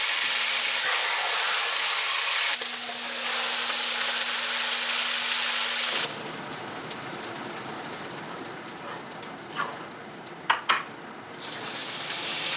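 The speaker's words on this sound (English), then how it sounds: "I've heated 2 tablespoons of oil in the Dutch oven at a high temperature. We're going to brown it in there about 3 minutes." Meat browning in two tablespoons of oil heated high in a Dutch oven, a steady close sizzle that drops to a quieter crackle midway, with a few sharp clanks near the end.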